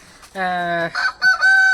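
A chicken calls loudly and close by in a few short, strident bursts separated by brief pauses, with no other sound around it.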